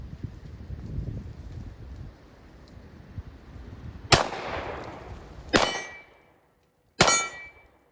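Three sharp, loud revolver shots fired double-action on an outdoor range, a Kimber K-6S or Colt King Cobra, spaced about a second and a half apart, each with a brief ringing decay after a stretch of low background rumble.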